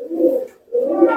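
A black long face fancy pigeon gives two close, loud cooing phrases separated by a short pause.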